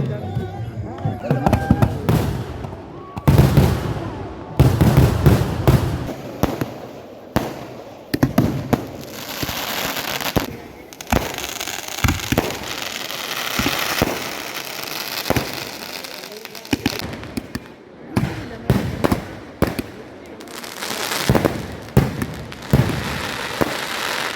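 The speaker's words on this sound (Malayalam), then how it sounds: "ഇനി നമ്മൾ വെടിക്കെട്ടിന് വേണ്ടി വെയിറ്റ് ചെയ്യാണ്" Fireworks at a Thonichal thira temple festival in Mananthavady burst in rapid, loud volleys of cracks and booms, some sharp and close, with brief lulls between salvos and faint crowd voices underneath.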